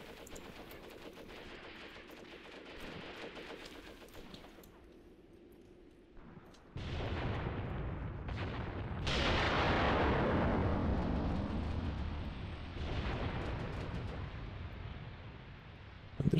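Artillery barrage with incendiary rounds in the Graviteam Tactics war game: a steady roar of distant firing gives way to heavy, sustained explosions and roaring bursts, loud and continuous, with a final sharp blast.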